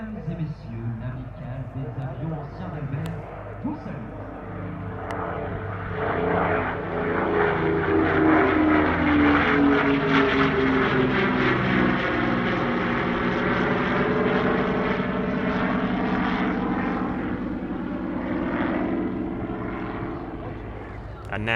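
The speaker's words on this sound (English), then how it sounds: "A very nice steep wing over there, giving a good view of the underside of the wings" A propeller aircraft at the 2022 Meaux airshow in France flies a steep wingover. Its droning engine swells to a loud, sustained roar as it sweeps past, with a shifting pitch, then eases away.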